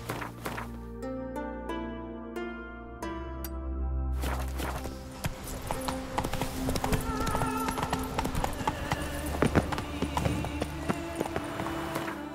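Horse hooves clip-clop at a walk in The Witcher 3, close and rhythmic over ambient game music, with a brief spoken line near the start.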